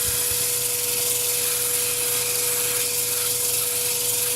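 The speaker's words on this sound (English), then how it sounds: "The Iroko is quite oily, so you need to scrub it quite well and clean it with meths or acetone." Oily Iroko wood edge being scrubbed clean, a continuous loud rough rubbing hiss with a steady hum underneath, no pauses.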